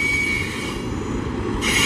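A Norfolk Southern freight train rolls by at CP Worley in Greenville, South Carolina, its steady loud wheel rumble carrying a high, sustained metallic squeal from the wheels.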